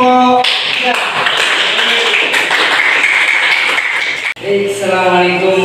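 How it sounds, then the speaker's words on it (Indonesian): Classroom applause for a student group in an Indonesian school lesson: a dense, steady burst of clapping from many students lasting about four seconds, then stopping abruptly as voices take over. "Tepuk tangan untuk kelompok."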